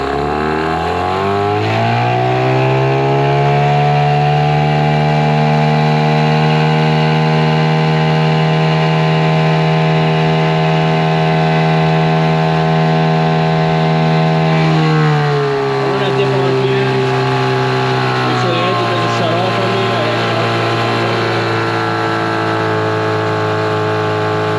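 A Mercury 15 hp two-stroke outboard motor opens up to full throttle, its steady, loud, buzzing engine drone holding high pitch, then dropping in revs near the end and running rougher.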